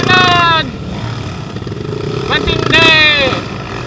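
Enduro motorcycles racing at the 4th ADIVAY Moto Enduro Challenge 2025, engines whining and revving in short rising bursts, nearby and loud, with spectators talking over them.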